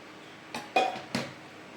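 A metal lid goes onto a pot of simmering chicken chana gravy with a few quick clinks and a settling clatter, close and brief against a quiet background.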